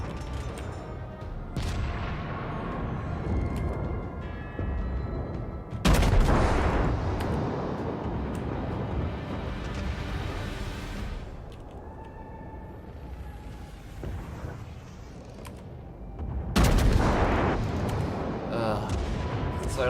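Ship gunfire in the World of Warships video game: loud booming salvos around six and sixteen seconds stand out over a continuous rumbling engine and mechanical bed, with broadband blasts decaying into rumble.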